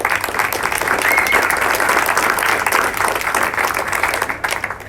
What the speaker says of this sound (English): please help me here with a round of applause for everybody that worked putting the event together